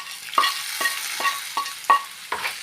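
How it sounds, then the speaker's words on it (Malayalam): Curry leaf chutney powder with tamarind, chilli powder, cumin and salt being stirred in a pan, a spoon scraping in about six separate strokes with a faint dry rustle and light sizzle between them. "നന്നായിട്ട് നല്ലോണം ഇളക്കുക."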